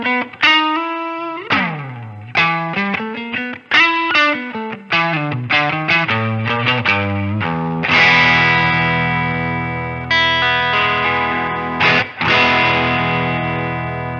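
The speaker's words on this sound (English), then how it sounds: "so this overdriven sound is actually sounding really nice to me" An electric guitar plays through an overdriven Fender Deluxe Reverb amp model on a Line 6 POD Go, with plucked notes and slides building into sustained, distorted chords, loud and close with no speech.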